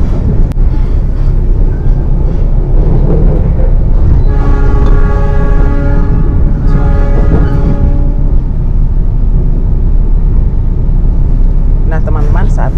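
An Argo Parahyangan passenger train, fully executive class, stands and moves at a station with a steady loud rumble, and a sustained horn blast sounds in the middle, followed by shorter squeals near the end.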